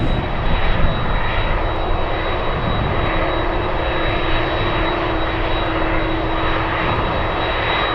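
An aircraft engine roars loudly and continuously at Anchorage airport during a takeoff, a steady broad rumble with a high whine running through it and no one talking.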